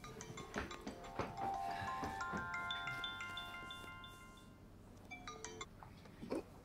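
A telephone rings with a melodic electronic ringtone, a series of sustained tones in a quiet indoor scene in a Chinese drama, fading toward the end with a few soft clicks.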